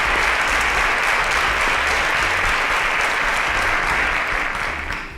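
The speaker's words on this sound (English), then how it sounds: "A round of applause for our panelists." Sustained applause from a seated panel-event audience, steady and dense for about five seconds before tapering slightly at the end.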